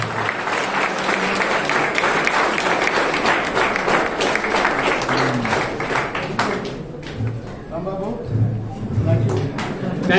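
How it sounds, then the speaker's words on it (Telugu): A crowd at a celebration event claps loudly and continuously, and the applause thins out as voices and speech begin near the end. "క్లాప్స్ కొడుతున్నాం అందరూ గట్టిగా ఒకసారి"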